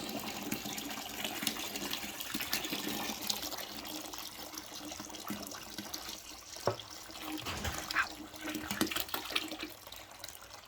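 Tap water runs steadily into a jug while mixing a sugar solution for a home cider batch, a continuous moderate splashing with a few brief clunks, no talking over it.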